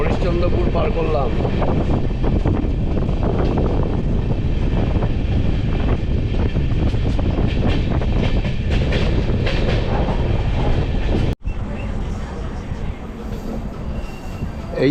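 Train running on rails past Kumedpur Junction as it rounds a curve, a steady loud rumble of wheels and carriages with wind buffeting the microphone, briefly cut and then continuing slightly quieter.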